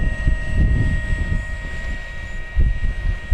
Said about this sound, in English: Very smooth taxiing plane.